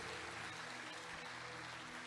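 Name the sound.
congregation applauding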